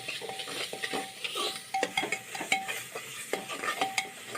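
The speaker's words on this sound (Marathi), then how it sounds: "आता हे वाटण केलेलं आहे ते आपण त्यामध्ये परतायला घालायचं। मसाला चांगला असा परतून घ्यायचा आहे।" Ground masala paste sautéing in a pan for egg biryani, a close sizzle punctuated by repeated rhythmic scrapes and light metallic clinks of a spatula against the pan.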